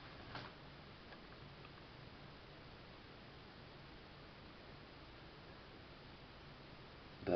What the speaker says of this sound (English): You'll notice the ticking sound.